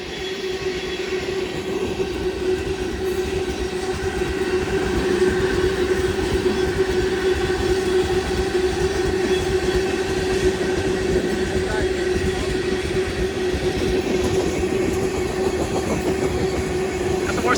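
A long northbound Union Pacific freight of limestone rock cars, led by an ES44 locomotive, rolls past at Stassney Lane with a loud, steady rumble and continuous wheel clatter, while a voice is faintly heard.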